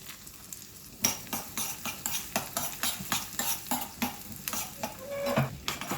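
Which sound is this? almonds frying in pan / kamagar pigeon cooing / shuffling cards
almonds frying in pan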